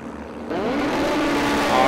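Jet ski engines at the start of a Pro Am Runabout Open race at the 2010 Jet Ski World Cup rise sharply into a loud, climbing rev that builds to a sustained roar.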